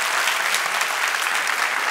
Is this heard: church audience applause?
yes